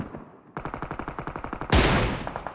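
Automatic gunfire from the mobile battle royale game Battlegrounds Mobile India: a rapid, evenly spaced burst of shots, then a louder, denser blast of fire near the end, all close and without any talk.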